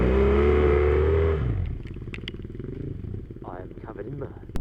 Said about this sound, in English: Give us a bit of wheel spin then.